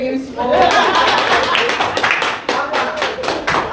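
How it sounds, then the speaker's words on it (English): An audience claps on request at an outdoor ring event, with brisk, close, rhythmic clapping right after a voice and some chatter mixed in. "Ladies and gentlemen, now clap for this moment."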